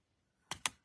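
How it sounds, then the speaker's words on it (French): Small crocodile-shaped paper punch cutting a hole in card, two quick crisp clicks close together, close-up and alone in a quiet room. "Avec une petite perforatrice, une crocodile."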